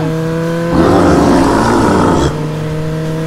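A motorcycle engine runs at a steady idle, then surges louder for a couple of seconds before settling back to its low, even hum.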